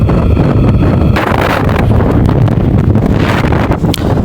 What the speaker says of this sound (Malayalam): നല്ല കാറ്റാണ്, നല്ല കാറ്റുണ്ട്.